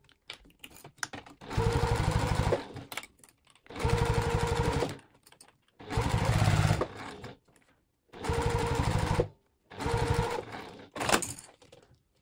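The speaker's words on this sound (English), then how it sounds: "I'm going to sew slowly to make sure my binding doesn't bunch up while I'm attaching it to" Sewing machine stitching binding onto a vinyl panel for a zipper pouch, run slowly in five steady bursts of a few seconds each, separated by short quiet pauses, close and clear with no talk.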